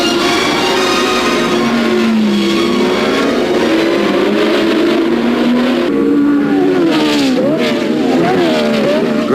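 Racing cars scream past at the International Trophy race at Silverstone, including a BRM and a Ferrari, their engines loud and rising and falling in pitch as they pass in close succession.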